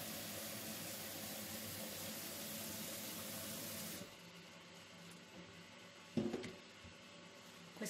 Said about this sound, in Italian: vado a versare acqua fredda di rubinetto